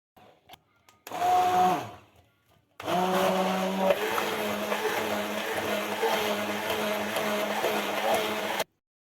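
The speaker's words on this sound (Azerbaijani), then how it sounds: "Bu kütləni blenderla yaxşıca əzirik." An electric blender purees a cottage cheese, egg, sugar and vanilla mixture for sweet buns, giving a brief whirring burst and then a steady, loud motor whine for several seconds before it cuts off.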